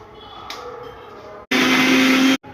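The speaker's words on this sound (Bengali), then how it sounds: "আমগুলোকে গ্রাইন্ডারের মধ্যে দিয়ে আমি এখন পেস্ট করে নিচ্ছি" A mixer grinder whirs loudly for about a second as it grinds boiled raw mangoes into a paste, then cuts off abruptly. Quieter kitchen sounds and a faint voice come before it.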